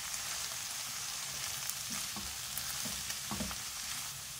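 Grated carrot stirred into vegetables sizzling in a hot pan for a cheesy veg egg pasta, giving a soft, steady frying hiss with a few faint scrapes and light knocks of a spoon.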